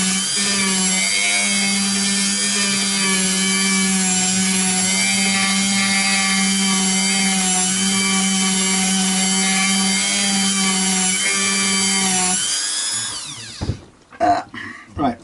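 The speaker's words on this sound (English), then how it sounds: "that's not bad for a sanding drum that's got practically nothing on it to do any sanding with" A worn, nearly bare sanding drum spins on a power tool against a part of a vintage JHS Thomas Blug signature V6 Strat guitar, a steady loud whine with a low hum that runs unbroken for about twelve seconds before cutting off into a few knocks.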